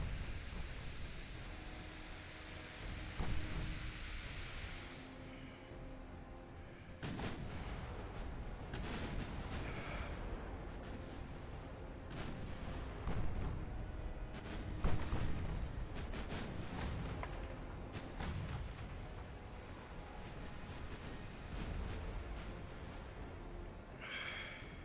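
Naval gunfire from warships in Ultimate Admiral Dreadnoughts, a series of heavy booming shots at irregular intervals over a constant hissing ambient roar, fairly faint, with no talking.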